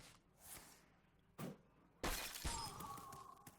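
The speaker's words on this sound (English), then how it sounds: "And then I'll shatter the face for lethal." Hearthstone shatter spell effect: a whoosh followed by a loud burst of breaking, icy glass-like shattering with a ringing tail, sounding alone with no talk.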